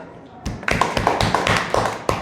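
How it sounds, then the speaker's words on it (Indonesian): Students in a classroom clap for a group after its presentation, with sharp, distinct claps in a fairly regular rhythm, close and loud, following a quieter start. "Kita tepuk tangan untuk kelompok 1"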